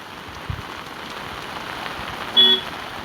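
Steady heavy rain patters on surfaces at the Droneshwar Mahadev temple in Mavthu, with a brief vehicle horn toot near the end and a soft thump early on.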